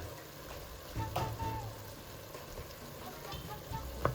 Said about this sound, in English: Next, we're going to add 2 tablespoons of garlic.